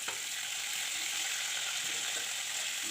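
River fish fry in hot mustard oil, a steady, close sizzle with a dense crackling hiss that continues evenly throughout.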